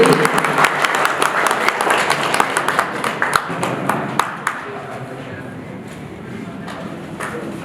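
Audience applause at a swearing-in ceremony of a cable operators' association in Udaipur: dense, lively clapping that gradually thins out and fades, with voices in the background.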